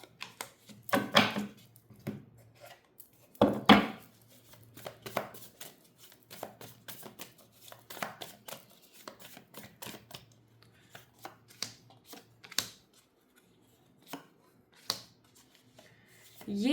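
Tarot cards are shuffled and drawn by hand: a few close, crisp riffling bursts and then a scatter of soft flicks and taps, fairly quiet, with no voice over them.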